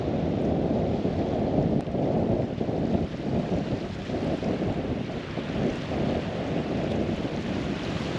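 Wind and water at the Arkabutla Lake shore make a continuous, loud, rumbling wash, with gusts buffeting the microphone and no voices.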